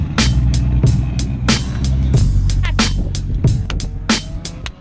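A Nissan 240SX drift car on a kart racing track, engine droning with repeated sharp bursts and rattles as it slides, heard from inside the car.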